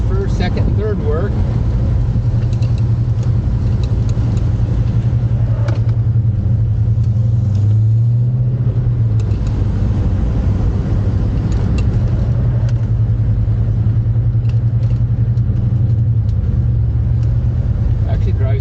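A 1997 Cobra's engine runs steadily as the car drives, a constant low rumble with mild rises and falls in pitch throughout, loud and close, with no talk over it.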